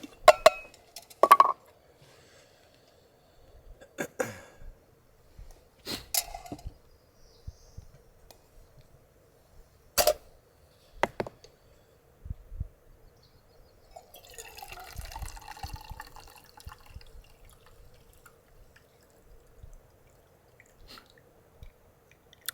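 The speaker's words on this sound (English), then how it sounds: "my coffee making technique is to just put tablespoons of grounds into the pot here" A camp coffee pot is handled outdoors on a lake trip while coffee is made, giving scattered clinks, knocks and small watery drips with quiet gaps between them, fairly close and without talk.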